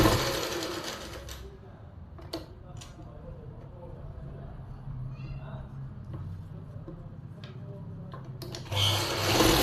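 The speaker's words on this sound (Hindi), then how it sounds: "इस तरह से बिल्कुल अच्छे से सेट करते हुए सिलाई लगाएं।" A sewing machine stitches the lining of palazzo pants, with a louder motor burst at the start and again at the end and quieter handling sounds and brief clicks in between, while a person talks.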